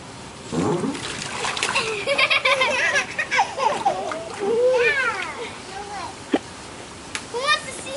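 Children splash and play in water outdoors on a holiday weekend, with repeated splashes and excited kids' voices and shrieks throughout, plus a sharp splash or clap near the end.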